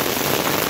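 Heavy afternoon rain falls as a dense, steady hiss of drops on surfaces, loud and continuous through a very short moment, with no voices.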